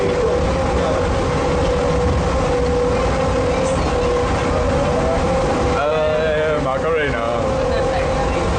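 Interior of a moving passenger train on the way to D.C., with a steady low rumble and mechanical drone throughout and a brief squealing change near the end, while voices talk faintly.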